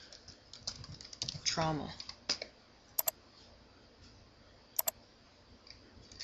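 Soft, scattered keystrokes and clicks tap on a computer keyboard, quiet and irregular, with a brief spoken word and a couple of sharper clicks.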